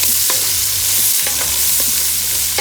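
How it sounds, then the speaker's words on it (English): Carrots go into bacon frying in a pot. There is a loud, constant sizzle with a few sharp scrapes and stirring knocks scattered across it, close by and with no voices. "So at this point, we're gonna go ahead and add the carrots."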